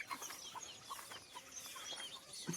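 Chickens cluck and call repeatedly in a farm shed housing hens and goats, with soft scattered bird sounds close by over steady background noise, no talking.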